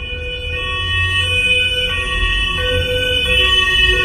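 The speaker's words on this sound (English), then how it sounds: "Ambulance." An ambulance siren wails with steady tonal sweeps over a low engine rumble, fairly loud and close, no talking.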